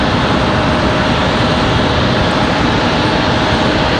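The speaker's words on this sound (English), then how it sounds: "MD-11 departure never, ever gets old." An MD-11 jet departs Raleigh-Durham airport with a loud, steady, close engine roar that fills the whole stretch without letting up.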